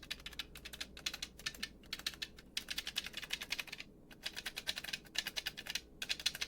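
Fret switches on a custom Kramer Guitar Hero controller click rapidly in dense, irregular bursts close up, a sharp clattering like typing with a few brief pauses.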